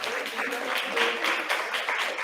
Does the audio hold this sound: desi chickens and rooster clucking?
no